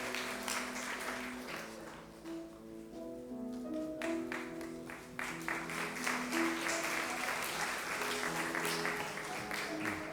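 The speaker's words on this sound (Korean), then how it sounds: "우리 다시 한번 뜨겁게 축하의 박수 보내시고" A church congregation claps in celebration, broad sustained applause rising and falling throughout, with a voice speaking over it and some musical tones in the background.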